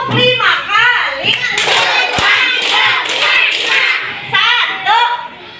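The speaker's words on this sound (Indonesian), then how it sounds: "Tepuk 5 kali." Children in a classroom clap their hands in short bursts on a counted cue, with sharp claps mixed among kids' voices and an adult speaking.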